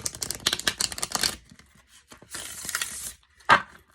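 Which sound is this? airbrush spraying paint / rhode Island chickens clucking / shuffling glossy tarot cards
shuffling glossy tarot cards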